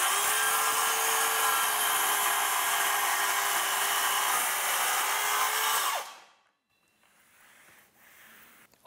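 A handheld circular saw cuts wood along a guide, a loud steady whining cut that holds for about six seconds and then stops abruptly, leaving quiet background.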